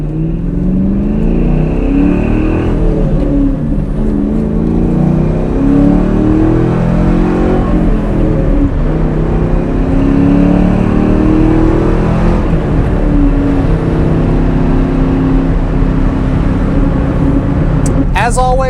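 A 2003 Ford Mustang Mach 1 with a 4.6 V8 and 5-speed gearbox is driven, its engine note loud and close, rising and falling through repeated revs and gear changes.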